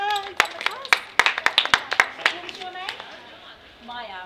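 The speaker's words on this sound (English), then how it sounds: "So a round of applause for Malachi and his lovely sister who done the task." Scattered, uneven clapping from a small audience for children at a science week event. The claps are sharp and close, several voices talk over them, and the clapping thins out toward the end.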